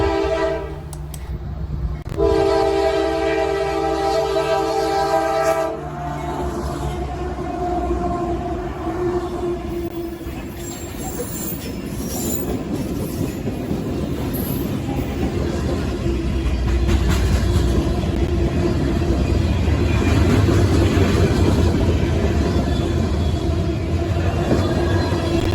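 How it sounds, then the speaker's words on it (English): A GP38 and three old CP SD40 diesel locomotives pass with a steady heavy engine rumble, rail noise and a sustained horn blast near the start, loud and close throughout. "GP38 going to Amtrak in Philadelphia and 3 old CPSD40s"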